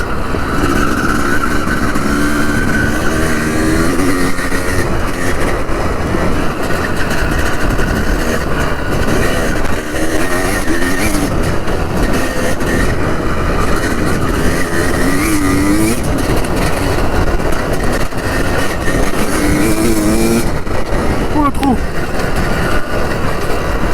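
A 250CR enduro motorcycle ridden off-road, its two-stroke engine buzzing loudly and steadily with repeated revs rising and falling throughout, a rider's voice faintly underneath.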